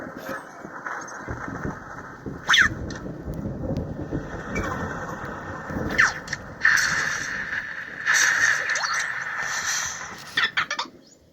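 An Anki Vector robot plays a thunderstorm effect for a weather report: steady rumbling rain-like hiss with sharp crackling bursts, heard through a small robot speaker.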